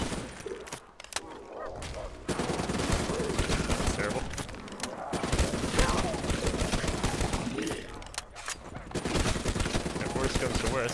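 Gunfire from the zombie-survival mode of Call of Duty, Nacht der Untoten, in repeated rapid bursts with brief pauses between them, mixed with game noise and a speaking voice.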